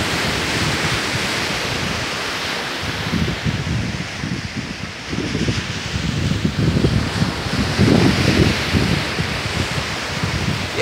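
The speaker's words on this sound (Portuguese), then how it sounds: "você tá escutando esse barulho? Escuta. É o mar." Ocean waves wash onto the Bahia coast in the early morning, a steady close roar of surf that swells and builds in strength toward the end, with no voices.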